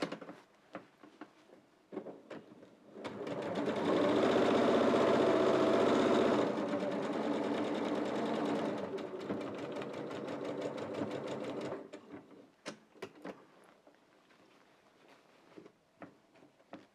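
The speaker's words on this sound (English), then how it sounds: "I'm going to sew up here and along here and keep coming along here and pivoting each time and sewing over my previous stitches all the way up" A sewing machine stitches a soft woollen no-knit scarf in a long, steady whirring run that slows in the middle, with quiet handling clicks before and after.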